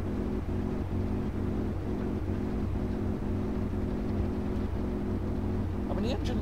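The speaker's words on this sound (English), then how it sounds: "when it's flying inverted, it literally does sound like it's misfiring on a couple of cylinders" A Yak-52 aircraft engine in the DCS World flight game misfiring on a couple of cylinders while flying inverted, a rough droning hum with a regular stuttering pulse, continuous and steady.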